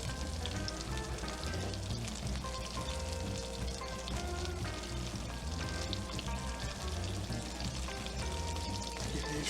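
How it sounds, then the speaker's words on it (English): Monte Cristo sandwiches, New Orleans French style with Gouda cheese, fry in a pan of oil, giving a steady, dense sizzle and crackle that runs unbroken at close range, with no talking. "Get these fried up."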